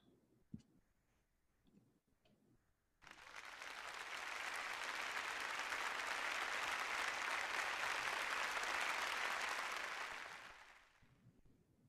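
Applause at an alumni awards night breaks out after a few quiet seconds with a couple of clicks, then swells into sustained, even clapping from a crowd before fading away near the end.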